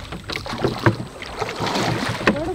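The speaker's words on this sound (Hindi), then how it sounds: "आज एक बार फिर से मौका मिला है नाव चलाने का" Oars work a rowboat through a mangrove forest, splashing and knocking softly amid wind noise, with irregular paddling sounds close to the microphone.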